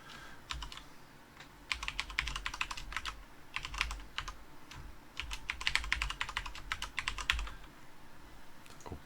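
Computer keyboard keys click in quick irregular bursts as a password is typed, with short pauses between runs of keystrokes, close and clear and without speech.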